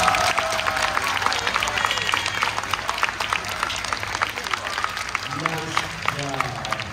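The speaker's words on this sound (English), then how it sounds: "let's give them a round of applause as well." An audience applauds the seniors and leaders of a steel drum group at a spring show, steady dense clapping filling the room throughout, with a few voices rising near the end.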